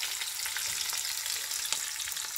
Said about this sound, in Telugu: పచ్చిమిరపకాయలు, కరివేపాకు 3 కూడా వేసుకొని వేగం ఇవ్వాలి